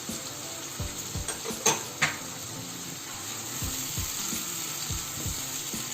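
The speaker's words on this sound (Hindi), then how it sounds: "साथ ही ये टमाटर भी इसमें डाल देंगे ताकि एक साथ सारी चीज़ें हो जाए।" Tomatoes sizzle steadily in a hot pan of chicken pulao, with a continuous frying hiss and a few sharp pops and utensil clinks near the start, close up and without speech.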